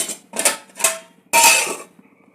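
A metal lid clanks onto a cooking pot of potato, paneer and pea curry, several sharp close metallic knocks and rattles followed by a louder final clatter that rings briefly before fading.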